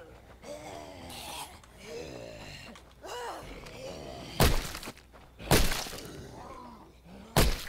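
Bloater zombie in the video game State of Decay, heard as low groaning and snorting breaths amid the game's ambience, punctuated by three loud, sharp bursts toward the end.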